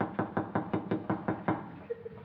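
Knocking on a door, about eight firm raps in a steady, evenly spaced series, fairly close and clear, then a brief faint tone at the end, with no talking.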